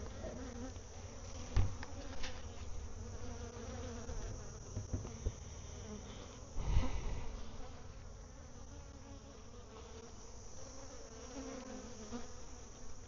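Honey bees buzzing in a bee yard while bringing in nectar, a dense continuous drone close by, with a few louder passes of individual bees.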